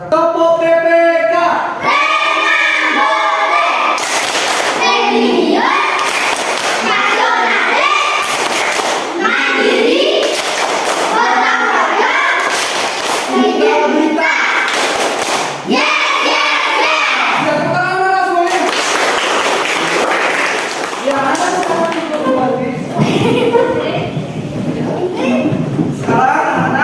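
Primary schoolchildren in a classroom performing a rhythmic clapping chant, loud patterned bursts of claps and thumps alternating with sung and chanted voices, repeated in cycles for a long stretch.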